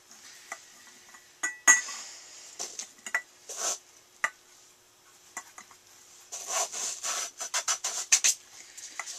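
Soybeans grind in a kitchen blender for homemade soy milk, a series of scraping, rasping bursts that start and stop unevenly, with a denser run of short pulses near the end and quiet gaps between.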